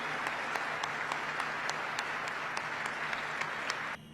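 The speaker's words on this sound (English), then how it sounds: "Give yourselves a round of applause." Steady applause from an assembled audience of troops at an air base in Iraq, a continuous wash of clapping with a few sharper individual claps, cut off abruptly near the end.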